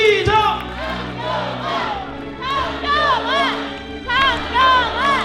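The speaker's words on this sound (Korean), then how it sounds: "다시 한번 박수 한번 크게 부탁드리겠습니다." A crowd at a political event in Gwangju cheers and shouts loudly, with voices chanting and whooping in rising waves over a steady background.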